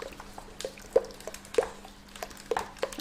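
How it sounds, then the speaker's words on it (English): Cake mixture stirred in a bowl, with soft wet squelches and small liquid plops at irregular intervals, close but faint, with no talk. "Let's stir it all in."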